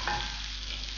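Chopped ginger hits hot oil in a frying pan for barnyard millet upma, a brief close sizzle that flares at first and then settles into a steady hiss, with no talking.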